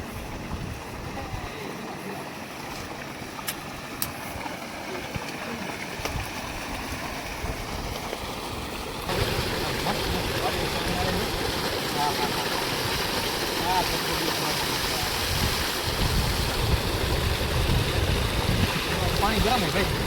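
Water gushes steadily from a borewell pipe on a farm, a broad rushing wash that grows noticeably louder and fuller partway through and then holds constant.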